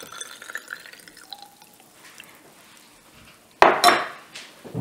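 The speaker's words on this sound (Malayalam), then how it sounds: "തേങ്ങാപ്പാൽ ഒഴിച്ചു കൊടുക്കാം." Coconut milk poured into a pan or pressure cooker for Kerala black halwa, a short loud liquid splash and gurgle following quieter kitchen clinks, with no one speaking.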